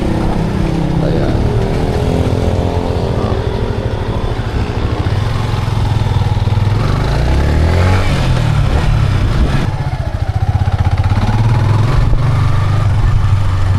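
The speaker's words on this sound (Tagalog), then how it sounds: "In love ako sa tunog ng motor na to." Motorcycle engine with exhaust running steadily while riding through traffic, a loud continuous low rumble with shifting engine pitch close by throughout.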